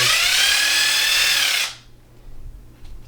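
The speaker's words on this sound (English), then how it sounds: "We're just going to drill that in." A power drill whirs loudly and steadily for about a second and a half as it drills into wood, then stops abruptly, leaving quiet background noise.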